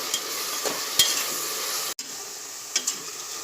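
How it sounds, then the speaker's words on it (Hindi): Sliced onions fry in oil until browned for birista, a continuous close sizzle broken by a few stirring scrapes and a brief clink of a utensil, with no one talking. "इसको अच्छे से सुर्ख होने तक तलूंगी।"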